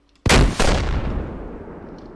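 An RPG rocket launcher fires in a modded shooter video game, a loud sudden blast that is quickly followed by a second boom and then a long, rumbling fade.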